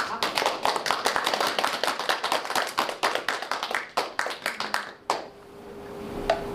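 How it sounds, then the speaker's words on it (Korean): An audience gives rhythmic, steady clapping as cheering support for the chairman at a senior forum event. The claps are loud and continuous for about five seconds, then stop and leave a quiet room. "힘찬 응원의 박수."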